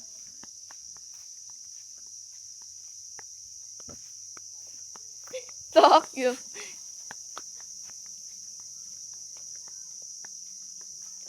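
A loud, continuous high-pitched cricket trill rings steadily throughout, while a brief voice and some rustling break in around the middle.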